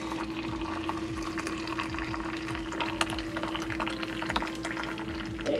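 Hot water is poured into a tea maker, a close, continuous liquid pour with bubbling and sloshing over a faint steady hum, no voices.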